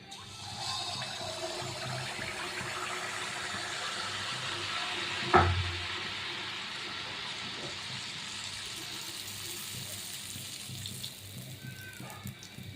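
Poa pitha batter frying in hot oil makes a steady, fairly quiet hiss throughout, with one brief splash-like crackle near the middle.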